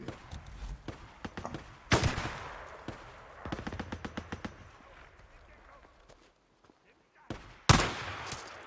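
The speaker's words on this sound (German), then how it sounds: "das ist ein guter Schuss." Gunfire in the zombie video game Days Gone: a few loud single shots and a quick rattling burst of automatic fire, sharp and close, with quieter gaps between and someone talking in German at times.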